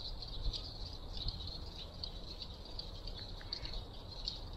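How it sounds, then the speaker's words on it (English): Frogs call from the woods in spring, a dense, steady chorus of high peeping that sounds like spring peepers, continuous and moderately distant over a low rumbling background. "Can you hear all the frogs?"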